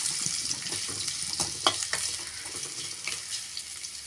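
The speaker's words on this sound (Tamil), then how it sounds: "வெங்காயம் நல்லா பொன்னிறம் ஆகிற வரைக்கும் வறுத்துக்கலாங்க." Medium onions frying in a pan until golden for a potato and dried fish thokku: a soft, steady sizzle with scattered light clicks and scrapes of stirring, close by and alone.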